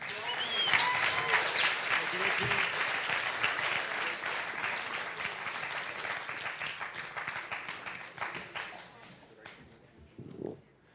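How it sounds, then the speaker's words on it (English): Audience applause for birthdays at a sobriety community gathering, a dense wash of clapping that swells early and holds, slowly thinning toward the end with a few scattered late claps and some voices mixed in. "Give them another round of applause"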